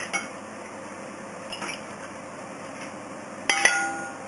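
Cooked soba noodles and green beans tipped into a salad bowl, a soft steady clatter of utensils and bowl with a few light clinks, then a sharper knock and rattle near the end.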